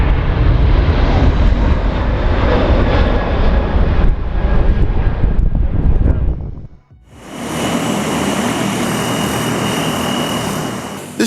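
Airbus A380 jet going around in strong headwinds on a short runway, loud roaring engine and wind noise that drops briefly, then returns as a steady, slightly thinner rushing roar.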